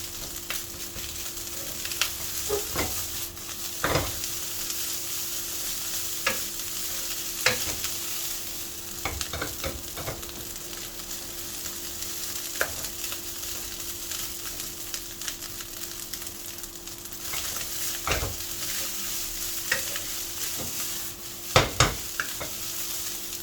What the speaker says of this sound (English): you can see the rice popping, jumping